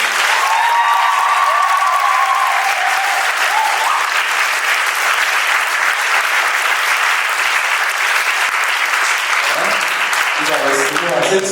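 Sustained, loud applause from a large crowd at a People's Party congress, a continuous wash of clapping that holds steady throughout, with faint background tones and a brief change near the end.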